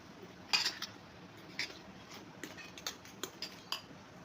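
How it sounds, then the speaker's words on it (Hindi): Metal spoon clinking against a cup while stirring masala spices into a cup of yogurt, a series of light, close taps spread irregularly over a few seconds with no talking. "इसमें मैं ये सारा जो है मसाला ऐड कर दूंगी और हम इसको मिक्स कर लेंगे"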